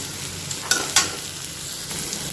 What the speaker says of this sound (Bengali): পেঁয়াজ আর মটরটা এবার হালকা লাল করে একটু ভেজে নেব।